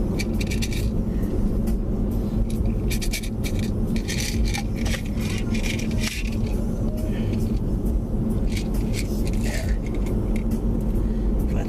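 A car drives along the road, a steady, loud low rumble of engine and tire noise filling the cabin throughout, with voices talking over it inside.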